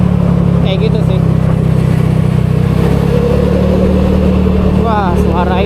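A loud travel minibus engine roars past a rider on a Honda PCX150 scooter, its drone filling the road noise. Other vehicles sound out around it, and someone talks over it.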